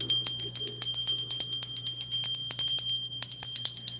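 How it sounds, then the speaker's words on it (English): A small hand bell rings rapidly and repeatedly during a live tarot reading session, with bright, sustained metallic tones in quick, fairly even strikes, close and clear with a brief pause near the end. "Want to ring the bell?"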